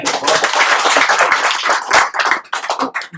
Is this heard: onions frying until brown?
no